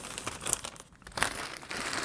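A plastic blind bag bought at an anime convention is torn open by hand, with close, loud crinkling and a sharp ripping burst partway through, alone without talk.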